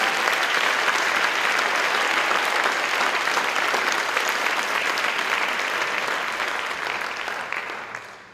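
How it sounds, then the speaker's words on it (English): Loud, sustained applause fills the hall at a high school senior awards night as the crowd honours award recipients, a thick even roar of clapping that tapers off over the final seconds. "Give another round of applause for Unionville Scholars."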